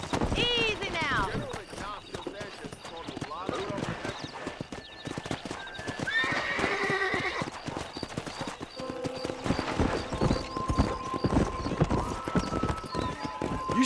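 Horses clip-clop steadily and whinny repeatedly in the video game Red Dead Redemption on PC, with someone speaking over the hoofbeats and occasional bright game-like tones.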